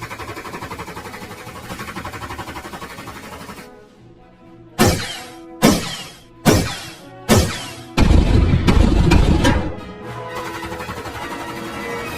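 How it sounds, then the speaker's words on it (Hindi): Four sharp gunshot-like bangs ring out about a second apart within a dramatized story, followed by a louder crashing burst; a steady droning background bed fills the moments before and after. "गोली की आवाज सुनते ही जयकाल आर्मी अलर्ट हो जाती है"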